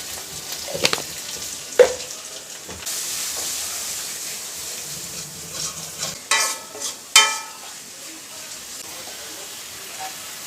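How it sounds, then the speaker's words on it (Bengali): Spice paste of green chilli, ginger and turmeric sizzles and is stirred in a pan for a Bengali banana stem fry, with soft frying hiss, scraping strokes and a few sharp utensil clanks. "মশলা কষানো হয়ে গেছে"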